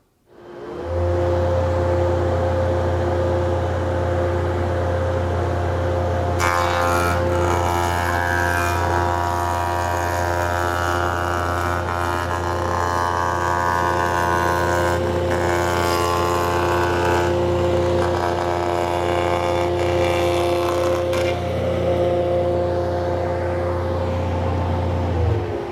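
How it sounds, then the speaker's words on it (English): A MiniMax C26 Genius moulder spins with a steady high whine, and its cutter head shapes a board for a stretch in the middle, adding louder rough cutting noise before the motor settles back to a constant hum. "a hold-down clamp will help hold that board down as the molding gets slid past the cutter head"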